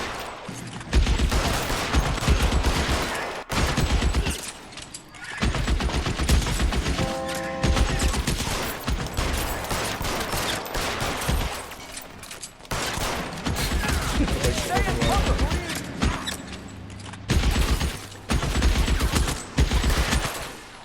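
Heavy gunfire from a shootout in L.A. Noire, with dense bursts and volleys of shots crackling almost continuously and briefly dropping out between exchanges, loud and close throughout.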